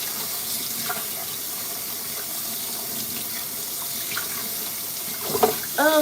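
Items are washed under a running tap, a constant close rush of water, with a few louder splashes and clinks near the end.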